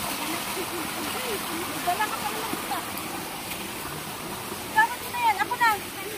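Loud, steady roar of a swollen river in flood, its water running reddish, continuing as a broad rushing wash throughout, with a few voices briefly calling out over it.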